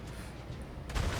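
Tank gun of a Strv m 42 in World of Tanks, heard as a single deep boom near the end of a quiet moment.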